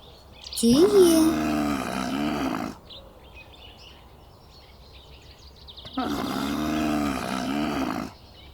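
A camel lets out two long, deep, rasping groans separated by a few seconds of quiet, the first opening with a rising bellow; both are fairly close and carry no accompanying talk.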